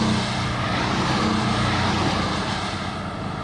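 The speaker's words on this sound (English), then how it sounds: "Its B4 engine gives the 718 Boxster a typically full Porsche sports car sound." A Porsche 718 Boxster's four-cylinder boxer engine hums in a full, steady sports-car drone, loud and even throughout the brief stretch, with no talking.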